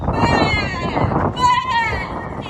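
A person imitating a goat gives a quavering, bleating cry at a Ukrainian Christmas carol festival, two drawn-out wavering bursts with a brief break between them.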